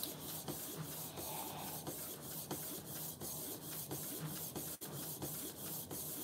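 An inkjet printer prints an edible cake-decorating image, giving a steady mechanical whir with regular carriage clicks and ticks at a moderate level and no voices.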